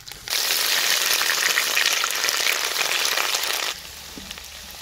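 Ginger and garlic paste sizzles loudly in very hot butter, a dense, hissing crackle that starts abruptly and holds steady for a few seconds, then drops away to a faint simmer.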